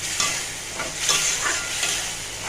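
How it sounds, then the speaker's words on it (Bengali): Boiled dal and tomato being stirred with spices in a hot pan, a loud continuous sizzle broken by scraping sweeps of the spoon and no voices. "এটাকে ভালো করে মশলার সাথে মিশিয়ে নেব।"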